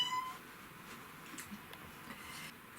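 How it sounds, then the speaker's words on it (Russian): A cat meows faintly indoors, a soft, brief call over quiet room noise with no talking. "Ты ревнивый кот."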